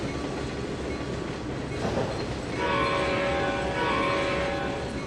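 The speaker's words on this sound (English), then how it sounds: "What am I blowing the horn for?" A train horn in the video game Trainz 2022, a sustained loud tonal blast over the rumble and clatter of a rolling train, starting partway through and holding to the end.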